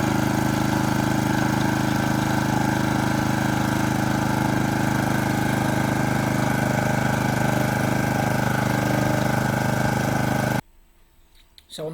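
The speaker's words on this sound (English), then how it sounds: "on the pitch this week, we've had the drilling machine out, the drilling holes." A drilling machine punching drainage holes into a football pitch gives a steady, loud engine drone with constant vibration, running without a break for about ten seconds before cutting off abruptly into near silence.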